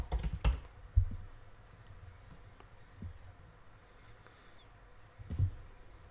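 Keystrokes on a computer keyboard entering a terminal command, landing as scattered taps and short bursts with a couple of sharper clacks, moderately close in a quiet room with no talking.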